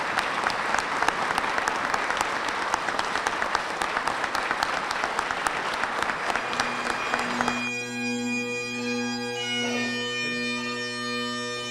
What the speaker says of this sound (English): let's give them a round of applause and show our appreciation